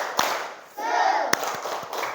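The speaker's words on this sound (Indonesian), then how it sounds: "Tepuk semangat." A group of listeners at a religious lesson performs a rhythmic spirit clap, with a few sharp hand claps around a burst of collective voice, close and moderately loud.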